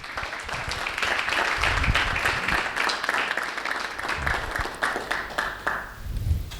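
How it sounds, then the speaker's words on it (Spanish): An audience at a talk on agricultural water-use efficiency applauds with dense, sustained clapping that thins out slightly near the end. "Un aplauso."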